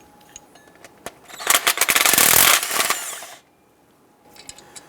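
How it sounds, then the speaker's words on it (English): A ratchet with a swivel head and extension loosens the bottom bolt of a serpentine belt tensioner on a 2008-2013 Nissan Rogue. A few isolated clicks lead into a loud, fast, rasping burst of ratcheting lasting about two seconds, then near quiet with a few faint ticks. "Let's go ahead and loosen that bottom bolt here now."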